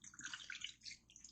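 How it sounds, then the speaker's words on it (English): Five cups of water being poured into a Ninja Foodi pot, a faint, brief gurgling splash with bubbly trickling, heard up close and alone. "So let's go ahead and add these 5 cups of water."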